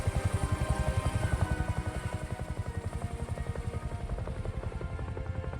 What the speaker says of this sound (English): Look at that old school JP helicopter.